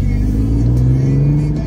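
A 2008 Audi TT with an aftermarket Magnaflow or Borla exhaust revs loudly and close by, a deep droning engine note that climbs briefly before easing off.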